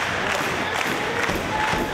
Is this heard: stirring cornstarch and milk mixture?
no